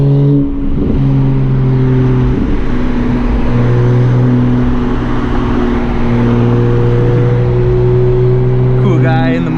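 A Ford Mustang GT engine, a loud nearby droning rumble with steady tonal harmonics that shift pitch slightly as it revs, ending with a short rise.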